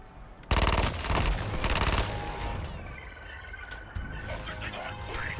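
Sudden loud bursts of automatic gunfire in Suicide Squad: Kill the Justice League, a sustained rapid volley that tapers into scattered shots and clatter, with game voices speaking in the background.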